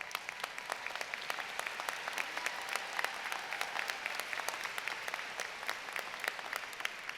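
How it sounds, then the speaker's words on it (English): A graduation ceremony audience applauds steadily throughout, dense clapping heard from a moderate distance without a break. "give them a round of applause"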